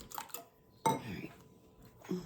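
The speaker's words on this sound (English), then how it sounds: "I always scrape my bowls to make sure I get all the ingredients out," Quiet, close scrapes and clinks of a utensil against a mixing bowl of evaporated milk and heavy cream for bread pudding, a few short strokes separated by pauses.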